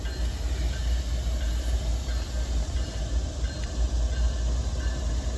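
Freight train rolling past at St. Denis, a mixed manifest whose heavy, sustained rumble and rushing wheel noise stay close and loud throughout, with faint squeals and metallic ticks over the roar.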